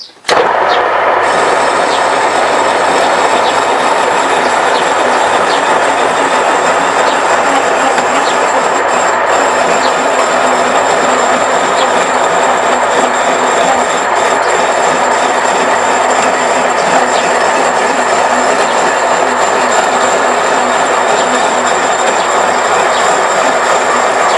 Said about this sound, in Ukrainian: Зараз речашком я включаю і підвожу різець.